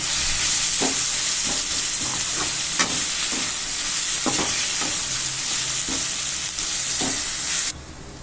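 Tomatoes frying in a pan for chapati kurma give a steady, loud sizzle throughout, broken by occasional scraping stirs of a spoon, close up, with the hiss dropping away abruptly near the end.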